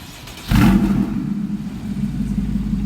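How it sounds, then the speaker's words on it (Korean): A Porsche Boxster with a tuned variable exhaust starts with a sudden loud exhaust burst, then settles into a deep, steady idle rumble close by. "시동 켜가지고 배기 소리 한번 들어보겠습니다"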